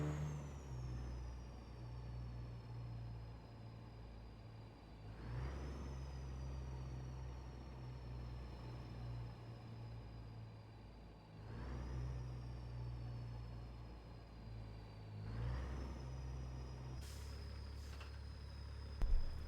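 A Cat 3406E truck engine, paired with a 15-speed gearbox and 355 gears, pulls in American Truck Simulator. Its steady low drone rises and resettles every few seconds with each gear change, and a brief hiss follows near the end.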